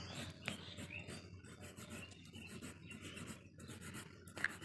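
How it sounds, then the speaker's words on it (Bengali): A nail buffer filing and rubbing across fingernails during a nail extension, a soft, steady rasping scrape at low volume, with faint background noise and no talk. "এখন বাফার দিয়ে নেলসগুলোকে ঘষে নিচ্ছে।"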